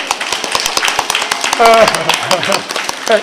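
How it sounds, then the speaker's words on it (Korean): A church congregation claps during a Christmas service, a sparse, uneven patter of hands that comes and goes, with a voice talking over it midway. "수고하셨는데 우리 박수 한번 하죠."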